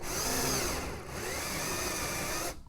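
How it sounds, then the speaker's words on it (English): A cordless drill whirs steadily at close range for about two and a half seconds, its motor winding down as the battery dies, then cuts out abruptly. "course my drill dies."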